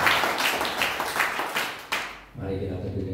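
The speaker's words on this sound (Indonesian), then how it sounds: "Tepuk tangan yang sangat mulia." Applause from a congregation during a church worship service, a burst of clapping for about two seconds that fades out, followed by low sustained organ or keyboard tones.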